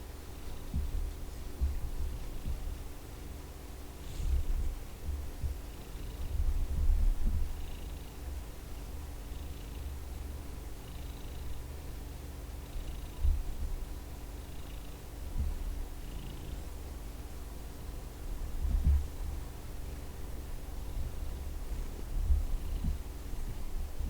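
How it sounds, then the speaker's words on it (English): A cat purrs in a soft, steady, low rumble that continues throughout, faint and close, with small shuffling noises. "She's typically a loud purr."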